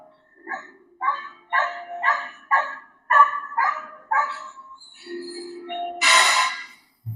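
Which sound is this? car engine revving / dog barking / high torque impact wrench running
dog barking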